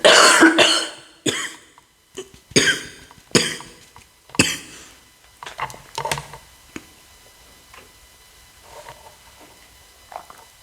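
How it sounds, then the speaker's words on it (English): Several sharp, close coughs in quick bursts from one person, followed by fainter throat clearing and small ticking sounds in a quiet room. "Sorry for coughing in your ear."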